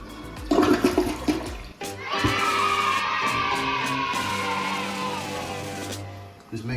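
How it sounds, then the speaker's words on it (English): A toilet flushes after being unclogged with a plunger, a loud sustained rushing and gurgling swirl of water that runs for several seconds close by, then trails off. "If you see the water suck all the way down, you for sure know the clog is out"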